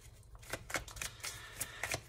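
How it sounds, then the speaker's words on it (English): A deck of tarot cards being shuffled by hand in short, soft riffling bursts, close and quiet, with no talking over it. "I'll go ahead and put them back in and continue shuffling"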